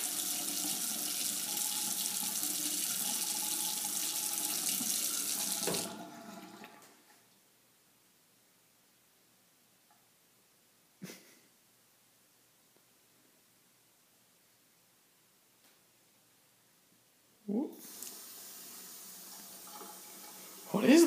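Water gushes loudly from a tap for about six seconds, then shuts off abruptly, leaving near silence broken by a couple of brief knocks before noise returns at the end.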